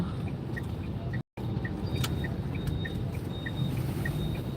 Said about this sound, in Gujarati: ભરપૂર ટ્રાફિક કોઈને રોકાવું જ નથી